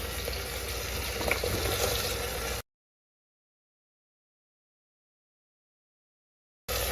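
Vegetables sizzle steadily in a hot pan as they are stirred for a couple of seconds, then everything cuts to silence before the frying briefly returns.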